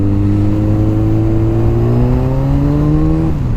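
Yamaha FZ1 motorcycle accelerating hard on a road, engine pitch climbing steadily through a gear before a quick shift drop near the end, loud and close with wind noise, no talking.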